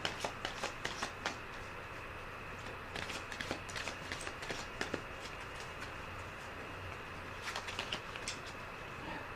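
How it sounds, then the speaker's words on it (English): Black Dove Oracle cards are riffled and tapped in quick, soft clusters of crisp clicks, close but quiet, with pauses between bursts over a faint steady hum. "I'm gonna pull my Black Dove Oracle cards."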